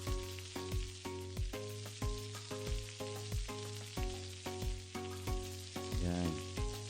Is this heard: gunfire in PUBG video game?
no